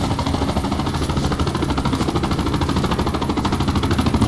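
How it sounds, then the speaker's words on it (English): Loud, rapid gunfire from the Vietnam-era game Project Reality rattles continuously in a dense burst of repeated shots. "Oh, that's just a gunshot."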